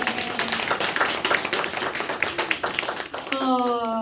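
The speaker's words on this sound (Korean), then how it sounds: "하나님께 영광의 박수." A church congregation claps in praise during a pastor's testimony service, a lively spread of hand claps with a speaking voice over it, ending in a held musical tone.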